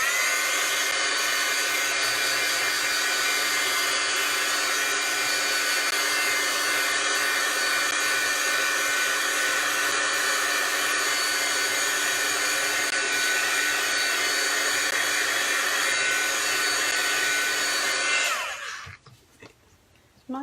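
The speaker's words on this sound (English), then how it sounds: "I'm just going to use the heat tool to just kind of speed up the drying here" A heat gun blows hot air in a loud, steady whine for most of the stretch, drying a craft transfer on a board, then switches off and winds down near the end.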